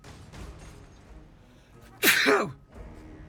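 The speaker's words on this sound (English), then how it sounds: "Oh, I'm going to sneeze." A single sharp, close sneeze bursts out after a quiet moment, followed by light background noise.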